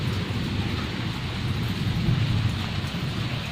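Steady rain falls outdoors in a dense, continuous patter with a low rumbling undertone, unbroken and without voices.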